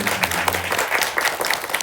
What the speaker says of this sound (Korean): 새롭게 이 고백을 올려드린 이 세 분의 형제님들께 우리 박수로 한번 축복하도록 하겠습니다.